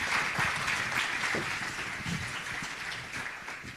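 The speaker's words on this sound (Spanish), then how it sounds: "Un aplauso para ellos" An audience applauds panelists at a real estate trust panel event, a steady dense patter of clapping from a crowd, fairly distant and fading slightly toward the end.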